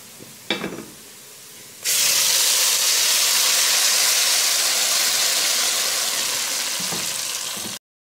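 Tomatoes dropped into a hot pan of oil and ghee burst into a loud, sustained hissing sizzle that slowly eases, after a quiet start with a couple of light utensil clinks and before an abrupt cut.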